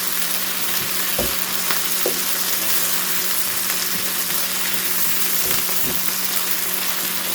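Sausage and onions frying in a pan, a constant close sizzle and crackle with a couple of soft knocks from stirring, no voices.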